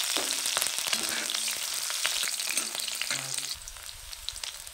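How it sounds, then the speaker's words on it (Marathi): Finely chopped green chillies crackle in hot oil with a bright, dense sizzle that stays close and steady, then eases slightly near the end, with no speech. "तेल गरम झाले, बारीक चिरलेली मिरची तेलात टाकते"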